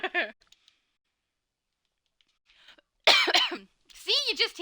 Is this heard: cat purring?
no